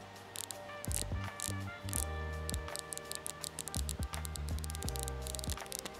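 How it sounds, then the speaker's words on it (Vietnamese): A budget smartwatch's Digital Crown is turned, giving a quick run of small, crisp mechanical clicks close by, laid over steady background music. "khi chúng ta xoay nó sẽ có tiếng tách tách tách tách tách tách"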